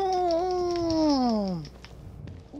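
In the video game The Evil Within 2, a cat gives one long, drawn-out meow that slides downward in pitch, fairly close and clear. A man mutters a short word as it fades.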